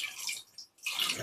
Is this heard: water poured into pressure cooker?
yes